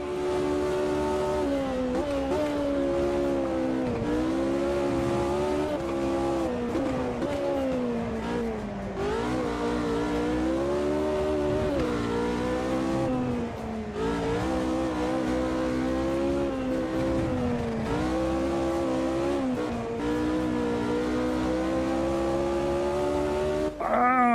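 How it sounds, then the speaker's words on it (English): A Mini Cooper's engine in a racing game revs hard and continuously, its pitch climbing and dropping through gear changes and wheelspin, a loud, steady, buzzy drone lasting over twenty seconds. "Couldn't feed the throttle in. Too much wheel spin."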